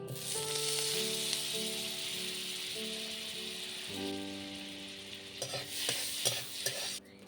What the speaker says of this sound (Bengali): কড়াইয়ের মধ্যে আমি একটা চামচ বাটার দিয়ে দেবো